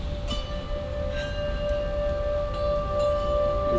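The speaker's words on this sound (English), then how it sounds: "Isn't that a really mysterious outer space kind of sound? That's called a singing bell." Brass singing bells rubbed around the rim with wooden dowels, several sustaining a steady, shimmering ring over a low room rumble, with a few soft strikes.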